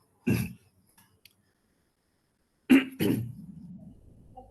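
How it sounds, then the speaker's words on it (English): Two sharp coughs, one early and one after a long silence, close and loud, the second trailing into a brief rough throat sound. "Actually, I cough a little bit."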